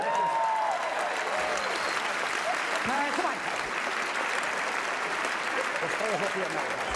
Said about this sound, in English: a round of applause for Pat Heffernan there